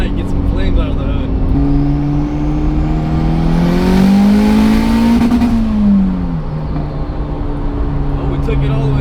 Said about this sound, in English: Oh, we took it all the way to Redline. Holy crap. It got to Redline quick. That was second gear.